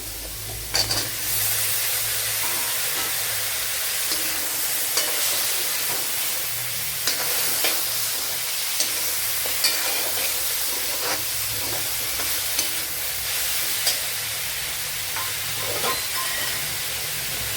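Drumsticks stirred and fried in a pan give a continuous loud sizzling hiss with occasional scraping clicks of the stirring, steady throughout.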